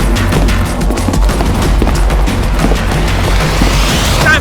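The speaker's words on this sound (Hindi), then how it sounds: "अरे गोली चली, भागो।" Loud, dense gunfire in an action movie, rapid bursts and booming shots overlapping continuously for several seconds with crashing impacts and no talk.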